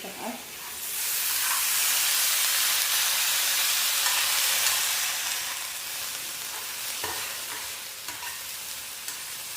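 Potatoes frying in a pan with garlic and green chili, a loud, continuous broadband sizzle that swells and then eases slightly, with a couple of faint stirring knocks and no talking.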